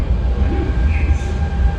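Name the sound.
train at a metro station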